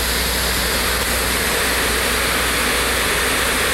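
A waterfall in Iceland fed by the Vatnajökull glacier roars as a loud, steady, broadband wash of falling water, close and unbroken with no voices.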